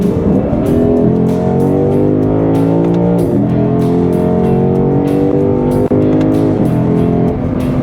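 A 2025 Lexus IS500 F Sport V8 sedan accelerating hard, engine note climbing steadily then dropping sharply at each of three quick upshifts, loud and close from inside the cabin.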